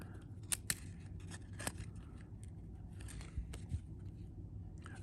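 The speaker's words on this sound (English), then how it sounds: "I got to peel them apart here." Stuck-together 1991 hockey cards being peeled apart by hand, giving a few short, sharp crackling snaps over a low, steady background hum, fairly close and quiet.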